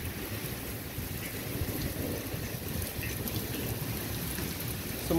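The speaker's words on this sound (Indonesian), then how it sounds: "kota Abu Dhabi, tepatnya jam 5 pagi, jam 5 subuh, diguyur hujan. Ini sangat kencang sekali," Heavy rain pours at dawn over Abu Dhabi in a windy storm, a dense, steady rushing hiss that fills the whole stretch without a break and with no voices.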